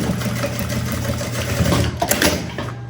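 A sewing machine runs continuously at close range, stitching piping trim onto a fabric pouch with a steady rapid mechanical whir and a few louder clicks toward the end.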